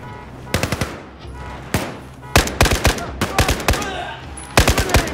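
Gunfire in the video game Battlefield 4, loud close bursts of rapid automatic shots in clustered volleys with short gaps between them, over a rumbling battlefield backdrop.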